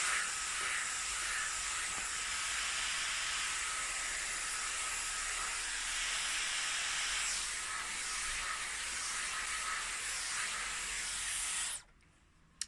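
A Dyson Airwrap hair styler running on low heat and low speed, a steady airy hiss and blowing rush that holds for several seconds and then stops abruptly.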